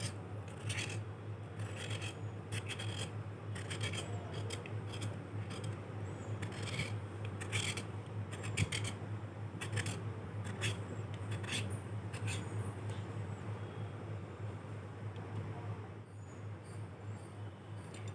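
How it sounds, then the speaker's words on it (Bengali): A kitchen knife scrapes the thin outer skin off pointed gourds in quick, steady rasping strokes, close and continuous, over a low constant background hum. "এভাবে করে ছুরির সাহায্যে ঘষা দিলে দেখবেন এরকম একটা পাতলা খোসা উঠে আসবে।"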